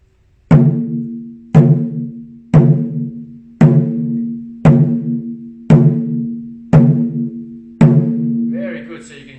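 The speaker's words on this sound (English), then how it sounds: "So medium size drum, and sounds like this." Medium-sized Japanese chu-daiko drum struck eight times at a slow, even pace, each loud, resonant hit ringing out and decaying before the next, with a short stretch of voice at the end.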